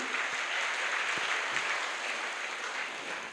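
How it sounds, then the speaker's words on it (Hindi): Audience at a motivational talk giving loud, steady applause for two teachers, a continuous dense clapping that holds evenly for the whole stretch without any talk. "जोरदार ताली चाहूंगा उनके लिए"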